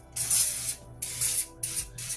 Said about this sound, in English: I'm going to spray this just a little bit with some olive oil